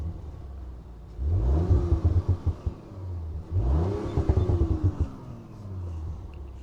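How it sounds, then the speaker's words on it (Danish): Audi RS5 Sportback with a 450 hp engine revving twice in Dynamic mode, each blip rising sharply to a loud rasping roar with crackles before settling back to a low idle rumble. "Så kan man godt høre bilen."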